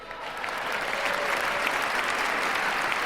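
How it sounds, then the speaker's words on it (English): A large crowd at a presidential inauguration breaks into steady, dense applause that holds at an even level throughout. "It's real funny to me that people like Usha and Ivanka are fucking clapping"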